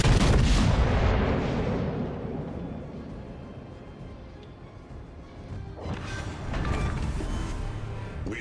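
Naval guns boom from a warship in the World of Warships video game, a heavy broadband blast at the start fading into a rumbling decay, then a second loud roar of fire and impacts near the end.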